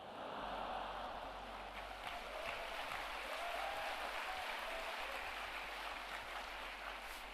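A church congregation at a Christian soldiers' revival service claps in a steady, dense wash of applause at moderate loudness, holding evenly from start to finish.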